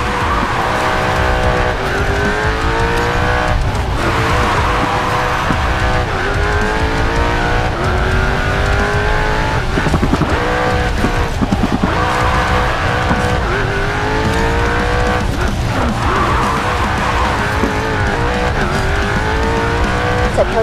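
A BMW M8 GTE race car drifting on a night city track in the Racing Master game, its engine roaring loud and continuous while tires squeal through repeated slides, with no talk.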